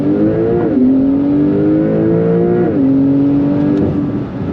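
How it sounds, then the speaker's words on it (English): A modded 2025 Porsche 911 Turbo S with about 700 hp launches hard, its engine roaring loud and close from inside the cabin as the revs climb through quick gear shifts over several seconds. "Let me show you how to do launch control."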